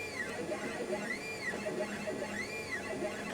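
An old Monoprice 3D printer runs a print, its stepper motors whining in repeating rising and falling sweeps over a steady mechanical hum, close and even, with no talking.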